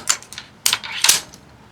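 Several sharp mechanical clacks from cocking a Zeus air-powered shotgun, close and crisp, with two louder ratcheting snaps following a lighter click, no voices.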